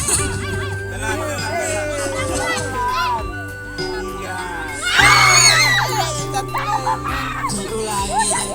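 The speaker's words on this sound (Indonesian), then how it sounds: "Jangan tergoda teriakan kelompok lain." Students in another group shout during an outdoor group game on a field trip to a tourism village, a dense babble of children's and young voices with a sharp burst of yelling partway through, mixed with nearby talk.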